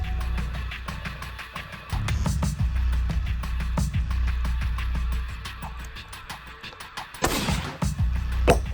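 Rifle shots fired while zeroing a hunting rifle in open Mexican mule deer country, with sharp loud reports near 2 and 7.3 seconds over steady low rumbling wind.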